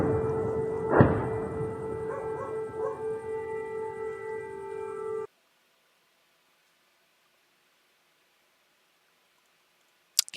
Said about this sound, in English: This you can hear the air raid sirens there and some explosions in Nikopol.